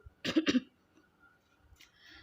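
A hoarse cough from someone with a badly sore throat: two quick, close, loud bursts back to back, then quiet with faint breathing and a soft rustle near the end.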